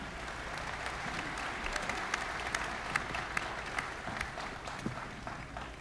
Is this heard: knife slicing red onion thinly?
no